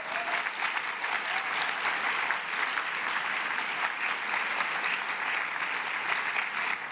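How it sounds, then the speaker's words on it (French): An audience at an awards ceremony for women at the ESTP engineering school applauds, a steady, dense round of clapping that holds evenly from start to finish. "vous pouvez vous applaudir"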